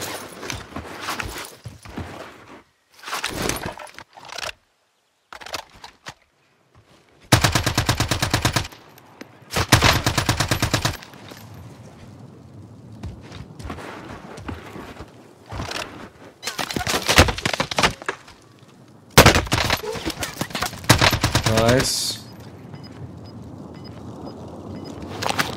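Automatic and single gunfire rattle through a Call of Duty Warzone match in Verdansk, loud bursts in several separate volleys with short gaps between them, while players shout over the shooting.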